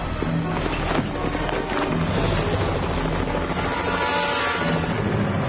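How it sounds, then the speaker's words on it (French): A helicopter gives a loud, dense roar with a steady rotor churn throughout, heavy low rumble and broadband wash filling the whole stretch, no clear pauses. "L'hélicoptère va arriver!"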